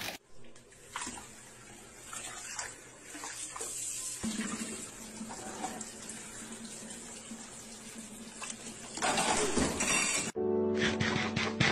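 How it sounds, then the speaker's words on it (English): Water runs steadily from the dispenser of a new fridge in a continuous splashing stream, close and moderately loud, and it swells toward the end before cutting off abruptly. "Here comes the water"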